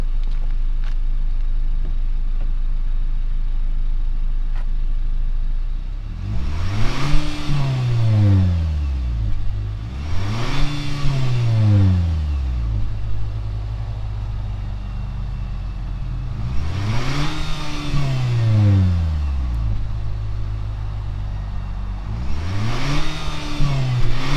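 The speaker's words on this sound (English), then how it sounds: "Let's rev on the engine really quick. So you can kind of hear what it sounds like." A 2024 Nissan Sentra SR engine idles steadily, then is revved four times, each rev rising sharply in pitch and falling back to idle, recorded close to the car with no talking.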